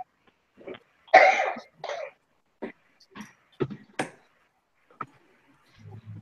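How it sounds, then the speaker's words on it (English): A run of sharp, close coughs and throat-clearing bursts, some hacking and some short, spaced irregularly with quiet gaps between them and no talking. "I keep hearing a cough"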